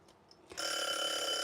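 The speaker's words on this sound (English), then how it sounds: "Oh, I hate that buzzer" A loud, steady electronic buzzer sounds in a quiet indoor craft space, starting abruptly partway through and holding as a continuous bright tone to the end.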